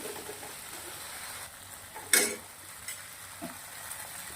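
Crispy paneer and roasted sesame being tossed in a hot pan for a chilli paneer starter: a low steady sizzle with a sharp scrape and clatter of a spoon against the pan, followed by a couple of softer stirring knocks.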